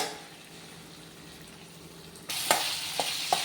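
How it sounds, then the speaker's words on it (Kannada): Green chillies and ginger-garlic paste hit hot oil, a quiet sizzle suddenly jumping into a loud, bright crackle with a few sharp spatters and stirring knocks. "ಈಗ ಶುಂಠಿ ಬೆಳ್ಳುಳ್ಳಿ ಪೇಸ್ಟಿಗೆ ಇದನ್ನು ಹಾಕ್ಕೊತಾ ಇದ್ದೀನಿ. ಇದನ್ನು ಸ್ವಲ್ಪ ಫ್ರೈ ಮಾಡ್ಕೊಳ್ಳೋಣ."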